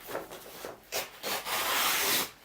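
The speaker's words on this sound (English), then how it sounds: "It's a 120 grit sandpaper here." Wood sanded by hand with 120 grit sandpaper, close rasping strokes in uneven bursts, short at first and then one long sustained rub before a final brief pass.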